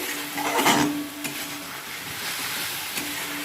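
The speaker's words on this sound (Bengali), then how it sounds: "এখন মশলাটাকে ভালো করে কষিয়ে নিচ্ছি দেখো" Masala and vegetables sautéing in a pan, a steady sizzle with scraping stir strokes, one brief louder stir burst near the start and occasional soft clinks, close and without talk.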